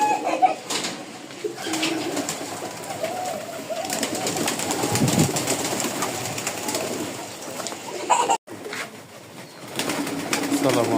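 Pigeons at a farm coo steadily in the morning, a soft continuous murmur of many birds close by, with a brief dropout near the end.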